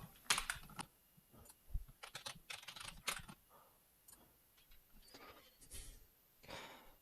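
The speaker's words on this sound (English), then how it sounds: "Then I type in some kind of password that I know." Password being typed on a computer keyboard: quiet, close, irregular key clicks in short bursts with small pauses, no voices.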